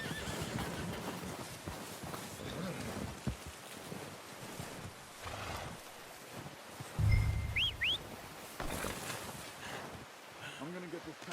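Horse in the Red Dead Redemption 2 video game whinnying with a rising squeal near the middle, amid clip-clopping hooves, wind and distant bird calls, with game characters talking around it.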